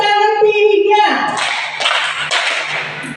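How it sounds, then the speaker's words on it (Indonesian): A voice speaks first, then a few rhythmic claps ring out close by, spaced in a short pattern. "Tepuk tangan 1, tepuk tangan 2, tepuk tangan 3"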